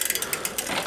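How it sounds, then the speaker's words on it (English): Rapid ratcheting clicks from a bicycle shifter on a thrift-shop Mongoose as its barrel adjuster is turned with the cable loosened, a short close burst of small mechanical ticks. "I'm working the barrel adjuster on the shifter now. I just loosened the cable."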